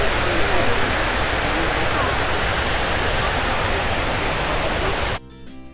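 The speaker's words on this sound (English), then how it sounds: "feature the largest man-made waterfalls in North America" Dense, steady roar of rushing water pouring into the 9/11 memorial pools, the largest man-made waterfalls in North America, loud and continuous before cutting off abruptly near the end.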